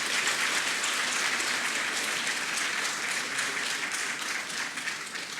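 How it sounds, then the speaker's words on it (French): Dense, sustained crowd applause at an official ceremony in Abidjan honouring President Macron, loud and even throughout with a faint rhythmic pulse, no voices over it. "On applaudit pour nous montrer qu'on aime."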